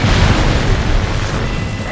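A tank blows up in the Ace Combat Assault Horizon video game: one loud, deep boom with a rumbling low-end tail that holds steady for about two seconds, with no talking over it.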